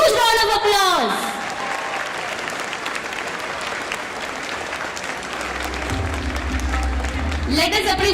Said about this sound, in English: Please, all of you stand up and give them a huge round of applause.